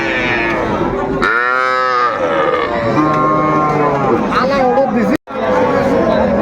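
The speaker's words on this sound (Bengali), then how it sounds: "এই নাম্বারে যোগাযোগ করলে আপনারা এই গরুগুলো পাবেন চমৎকার চমৎকার বাচ্চা" Young calves and bullocks moo loudly at a livestock market, one long drawn-out call standing out near the middle amid a steady murmur of crowd chatter and other animal noise.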